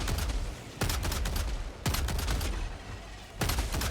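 Helldivers 2 shotgun blasts at swarming bugs: four loud, sharp booms spaced about a second apart, each followed by a rumbling decay amid constant battle noise.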